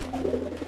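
A pigeon coos in courtship close to the listener, a soft low rolling burble repeated in quick pulses over a steady background hum.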